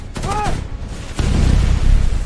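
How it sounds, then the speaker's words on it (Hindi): Gunfire and explosions in a dramatized 1971 Longewala desert tank battle: a sharp burst and a loud boom, then dense low rumbling blasts and shots continuing steadily near and loud, with a brief voice-like tone early on. "चारों ओर आग, धमाके, गोलियों की बारिश"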